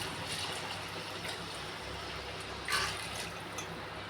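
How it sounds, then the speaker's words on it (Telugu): Water pours steadily into a large pot of rice for biryani, making a soft continuous rush with a brief louder splash, fairly faint throughout. "ఇప్పుడు వాటర్ పోసేసుకుందాం."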